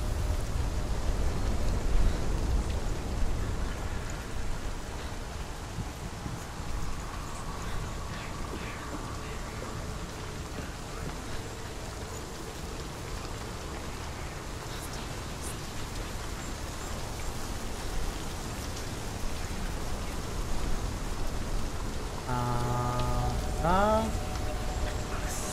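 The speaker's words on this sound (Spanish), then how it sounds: "está lloviendo" Rainfall in the video game Hellblade, a steady hiss of rain on surfaces running throughout with faint wind, continuous and even, with a brief tonal game sound near the end.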